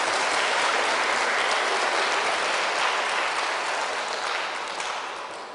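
Listeners at a Buddhist dharma talk break into full applause, a dense, even wash of clapping that stays loud for several seconds before starting to thin out and fade.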